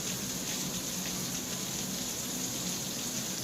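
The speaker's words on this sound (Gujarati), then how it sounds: "સતત વરસી રહ્યો છે વરસાદ" Steady heavy monsoon rain falling in Gir Somnath, a dense continuous hiss without breaks, even and unchanging at a moderate distance, no voices.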